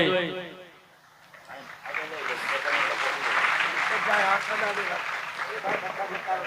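Applause from a gathered crowd during an honouring ceremony at a religious gathering, a steady wash of clapping that swells after a brief spoken voice and continues at moderate volume.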